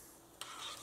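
Rice being stirred in a pot of boiling water while making chicken biryani, a brief scraping swirl that rises after a quiet start and carries on over a steady bubbling hiss.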